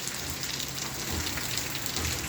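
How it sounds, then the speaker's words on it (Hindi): Steady rain falls during the rainy monsoon season in rural Haryana, a dense even hiss of drops with no voices, continuous and fairly close throughout. "ये बरसात का मौसम भी बड़ा निराला"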